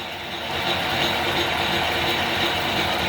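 A vintage metal lathe's drive mechanism engages in a workshop, giving a steady, loud mechanical whirring and ratcheting clatter of gears that builds in the first half second and then runs continuously.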